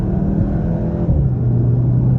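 A 2022 Volkswagen GTI engine rumbles steadily from inside the cabin, with a brief quick dip in pitch as the 7-speed DSG dual-clutch gearbox shifts.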